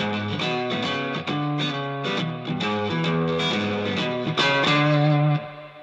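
Electric guitar played through a Bluguitar amp into a Fender Super Reverb cabinet, a loud continuous run of bluesy chords and single notes with effects and some drive, close and alone without talk.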